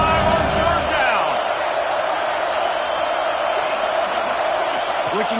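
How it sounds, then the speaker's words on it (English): Ohio State Buckeyes football crowd roaring on a third down, a dense, steady wall of stadium cheering held at full loudness throughout, with broadcast commentary running over it. "The Buckeye crowd alive on third down"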